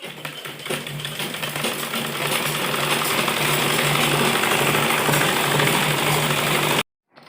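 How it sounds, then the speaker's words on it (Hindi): A sewing machine runs steadily, sewing a double line of stitching along the seam of a churidar pajama, with a dense, continuous mechanical whir that cuts off abruptly near the end. "ये डबल सिलाई हम करेंगे इसके ऊपर।"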